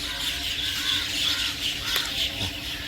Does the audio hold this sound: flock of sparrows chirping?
yes